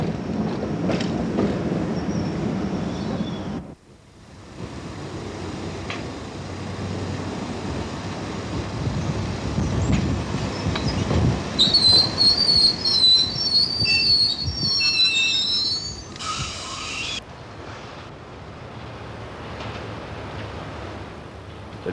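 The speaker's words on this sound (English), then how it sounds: "we take a look at the prototype trains of the 1990s" 1990s London Underground prototype trains roll past at Neasden with a steady rumbling rush, then a loud high wheel squeal builds midway and fades as the cars move on.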